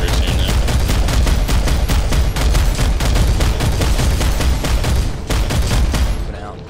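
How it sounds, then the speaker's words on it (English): Sustained automatic gunfire in a Planetside 2 beta airborne battle with Terran Republic forces, with rapid evenly spaced shots hammering loudly for about six seconds before tapering off at the end. "Under heavy fire, north, north."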